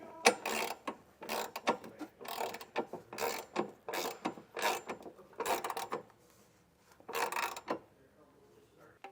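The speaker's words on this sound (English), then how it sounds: "we can come back through with a 19 or 3/4 inch socket and snug the rest of that hardware down" A 19 mm (3/4 inch) socket on a ratchet snugs down the hardware of a Curt trailer hitch receiver under a 2022 Toyota RAV4, with a close run of rhythmic ratcheting clicks in bursts and brief pauses between them.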